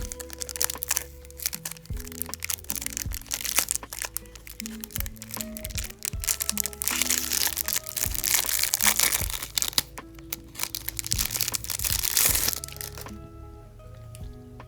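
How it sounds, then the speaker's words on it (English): Rhinestones from a polygel nail kit being pulled out of plastic packaging, with close, loud crinkling, cracking and crunching of the plastic in irregular bursts before it settles quieter at the end. "Let's go ahead and remove them from the packaging to get a closer look."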